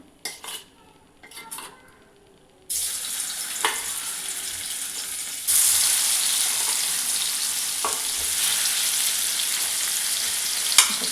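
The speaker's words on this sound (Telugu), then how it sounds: "కారం అనేది మిక్స్ చేసుకొని ఇప్పుడు ఈ పన్నీర్ కూడా ఫ్రై చేసుకుందాం" Paneer mixed with chili powder hits hot oil in a pan with a sudden loud sizzle that jumps louder again midway, sharp metal utensil clinks scattered through the continuous frying hiss.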